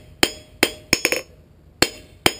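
A hammer strikes hot steel while a slot punch is forged, giving six crisp, ringing metallic clinks at uneven intervals, close by with short decays.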